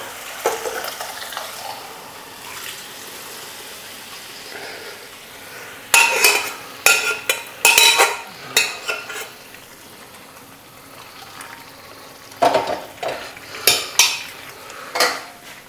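A spoon scrapes and clanks against a pan while stirring peas and mushroom curry. The spoon sounds come in two clustered bursts over a low background sizzle, with quieter stretches between and no talking.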